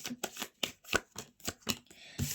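Tarot cards are shuffled by hand in a quick run of about nine crisp riffling bursts, close and fairly quiet, with no speech.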